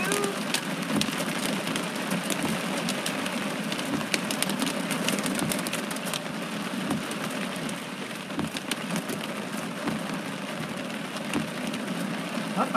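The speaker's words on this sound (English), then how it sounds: "That is some heavy mother freaking rain, dude." Heavy rain pours down steadily during a severe thunderstorm in Los Angeles, a dense, even roar of drops close by with no pauses and no voices.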